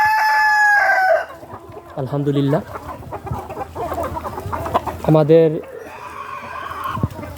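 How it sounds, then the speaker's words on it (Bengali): Tiger breed laying hens and a rooster on a farm, with two loud, drawn-out crows rising over steady clucking while someone talks throughout. "আমাদের টাইগার মুরগির ডিম পারতেছে"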